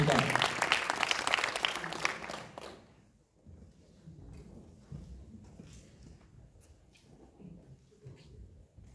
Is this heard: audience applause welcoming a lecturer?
yes